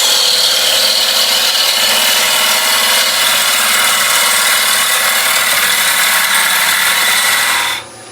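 Wood lathe turning a raised bowl, the gouge making a steady, loud broadband cut against the spinning wood with a hissing, rushing tone, continuing evenly before stopping abruptly near the end.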